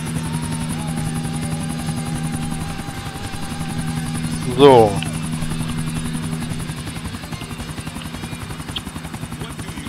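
Helicopter flying in the video game GTA IV: The Ballad of Gay Tony, a constant low droning rotor hum throughout, with someone speaking briefly over it midway.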